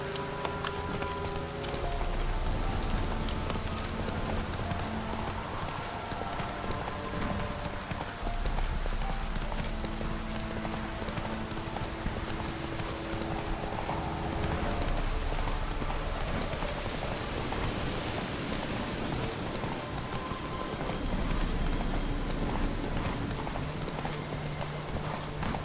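Horse hooves clip-clop steadily in the rain in The Witcher 3, an even trot over a constant rain hiss, with faint background music and no talk.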